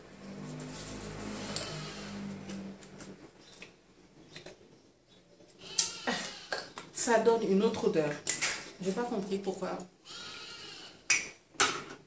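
A sheep bleats repeatedly in the background, its calls rising and falling between and under a woman's French speech.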